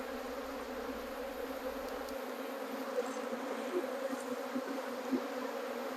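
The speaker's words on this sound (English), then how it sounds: "But I could feel the bees around my forearm." Honey bees hum in a dense, continuous drone at close range during a hive inspection, a steady swarm buzz with no voices.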